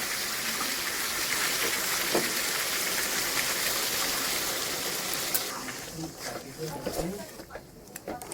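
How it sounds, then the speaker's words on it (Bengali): Water poured into a pot of chicken kosha with potatoes, a steady rushing gush for several seconds that then breaks into splashes and stirring sounds, with a voice heard at times. "এবারে আমি জল দিয়ে দিচ্ছি"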